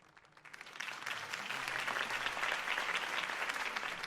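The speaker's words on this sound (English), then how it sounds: "If only Mr. Wayne, my campaign's largest backer, could have heard that applause" Crowd applause after a campaign speech in a Batman video game, clapping swelling quickly from quiet into a dense, sustained ovation that holds steady, fairly distant and without speech.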